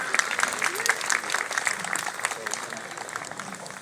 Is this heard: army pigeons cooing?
no